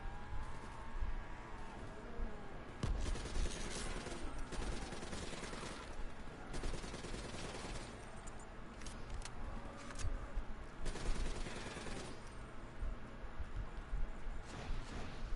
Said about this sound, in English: I don't know what you're shooting at.